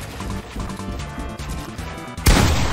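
Gunfire rings out in a Fortnite match, a dense stretch of close, rattling shots that ends in a sharp, loud burst near the end.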